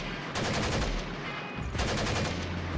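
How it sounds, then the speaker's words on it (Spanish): Several rapid bursts of gunfire ring out, two loud volleys separated by a brief lull, with no talking. "Entonces disparo, hasta que ese sentimiento se va."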